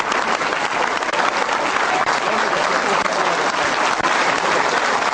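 Sustained, dense applause from a large audience at a presidential gathering honoring Ecuadorian president Rafael Correa, steady and loud throughout with a faint murmur of the crowd beneath.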